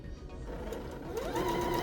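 A sewing machine runs steadily as fabric edges are stitched together for a reversible door bow, a continuous close mechanical whir that rises slightly in pitch and loudness toward the end, with no talk.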